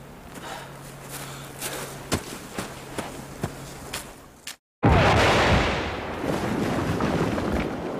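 Staged explosion destroying a statue in an outdoor stage play, a sudden loud blast after a few sharp thuds and footsteps, followed by a sustained roaring rumble that slowly fades.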